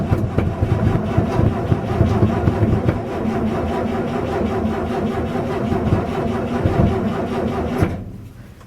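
A 1961 GMC 5000 truck engine runs on a winter day after a start by jumping the solenoid, with a steady, close, loud rumbling idle. It cuts off sharply near the end.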